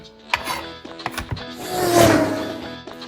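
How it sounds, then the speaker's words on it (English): A knife chops washed organic cilantro on a board in a run of close, sharp, uneven taps, with a louder rustling swell of herbs midway and no talk. "I have some washed cilantro here, organic. Let's just chop it up."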